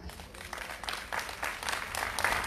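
Audience applause at an outdoor cultural event in Šiauliai, Lithuania, as sponsors are thanked, with soft scattered clapping that swells in waves and stays fairly faint throughout.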